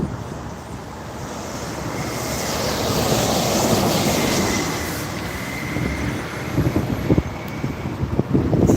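A subway train passes with a loud, continuous rumble and rushing air that swells in the middle, then gives way to rattling, clattering wheel noise near the end.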